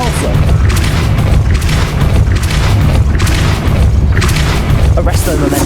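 Spell blasts and booming magical impacts from the Hogwarts Legacy video game, loud and dense, with repeated heavy thuds layered over a constant rumbling game soundscape and a voice speaking.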